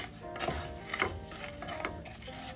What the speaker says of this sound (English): You just gotta continuously stir it so it doesn't burn.